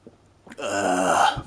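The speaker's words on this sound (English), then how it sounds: "Allow me to burp for a second." A single loud, drawn-out human burp, voiced and rasping, rising after a short pause and sustained for about a second close to the mic.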